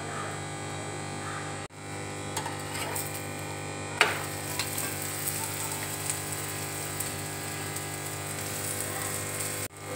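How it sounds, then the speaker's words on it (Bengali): A paratha frying in ghee on a tawa, giving a faint, steady sizzle with a couple of light clicks of handling partway through. "আমি এখানে কিন্তু ঘি দিয়ে ভাজছি।"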